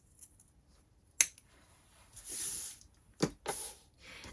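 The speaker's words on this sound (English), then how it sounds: "I'm just going to cut that off because we don't need that." Scissors cut the corner off a fabric tote bag: a sharp snip, then a couple more clipped cuts with soft fabric rustling between, close and quiet, with no talking.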